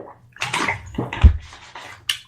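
A person takes a sip of cold water from a glass, with a few short wet gulps and swallowing sounds broken by brief pauses, close and fairly loud, with no talk.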